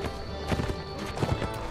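A horse galloping in the video game Mount & Blade: Warband, a short burst of quick hoofbeat clip-clops at moderate distance, fairly soft against a faint background.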